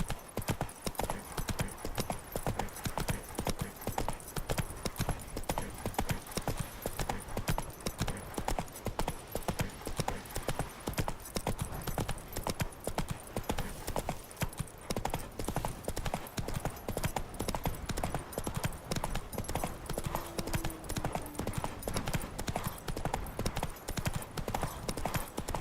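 Roach, the horse in The Witcher III, gallops in a fast, even clip-clop rhythm of hooves that runs without a break for the whole stretch, loud and close.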